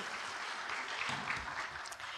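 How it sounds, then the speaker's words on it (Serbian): Steady crowd applause from an audience at a 2008 festival of ilahije and kaside, clapping for a youth choir; dense, even clapping continues throughout without a break. "dajte im jedan aplauz veliki"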